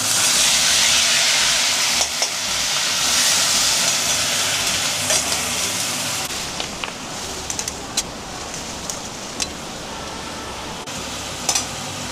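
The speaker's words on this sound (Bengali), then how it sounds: "এবার পেঁয়াজ বাটাটা দিয়ে দিব।" Onion paste hits a hot pan of oil after fish has been fried for a Bengali fish curry, bursting into a loud hissing sizzle that gradually settles into softer crackling with occasional stirring clicks.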